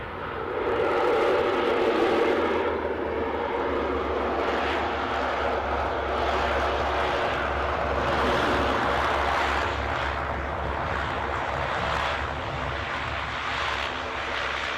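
A Saab 340 turboprop's engines drone at Aberdeen airport, a steady low rumble with broad roaring noise that stays loud and even for the whole stretch.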